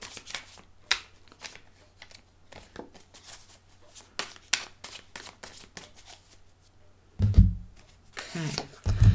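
Tarot cards are shuffled by hand in soft, irregular flicks and slides, close up, ending with a louder shuffle and thumps of the deck.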